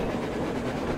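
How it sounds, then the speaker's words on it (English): A train on the surface in the video game Metro Exodus, a steady dense rumble of rolling rail noise with no clear clicks, continuous and fairly loud throughout. "There's the train."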